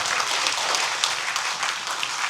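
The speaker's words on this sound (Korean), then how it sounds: "큰 박수 좀 부탁드리겠습니다" A crowd at a Korean lawmaker's legislative report meeting in Yongin claps steadily, dense applause at an even level, fairly close, without speech over it.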